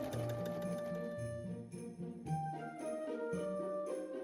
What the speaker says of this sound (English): Change the thread color and stitch along the edge.